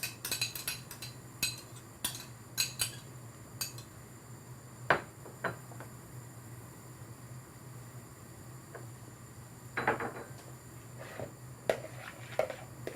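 Natural yoghurt and curry powder being mixed into a paste in a bowl, with scattered spoon clinks and scrapes against the dish over a low background hum, close and quiet.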